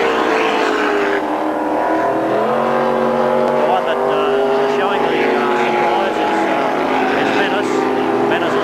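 A powerful racing powerboat engine roars steadily at close range during a 1987 boat race at the Taree Aquatic Festival, a continuous loud drone with shifting pitch, and commentary voices talk over it throughout.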